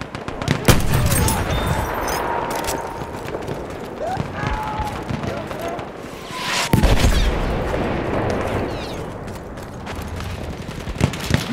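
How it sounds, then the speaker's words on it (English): Machine gun bursts and scattered gunfire in Battlefield 1 multiplayer on the Achi Baba map, loud and continuous with booms, under in-game soldier voices calling out. "Machine gun!"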